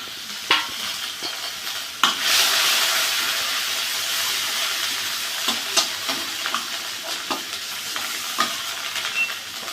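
Garlic, onion and ginger-cumin pastes dropped into a hot pan set off a rush of sizzling, broken up by sharp spatula taps and stirring scrapes.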